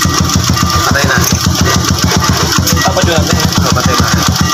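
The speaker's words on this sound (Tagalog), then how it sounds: "Minsan, hard starting dun sa kanyang electric starter." Motorcycle with a hard-starting electric starter and a knocking starter fault, cranking in a steady fast rhythm of repeated pulses with a low engine rumble, loud and close throughout.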